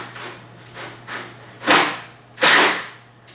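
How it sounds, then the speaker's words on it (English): Self-tapping metal screws being driven through a metal veneer flange into studs, heard as a series of short whirring drill bursts, the last two louder and closer, over a low steady hum. "I'm just going to use a self-tapping screw, a metal screw for this, and see how that works."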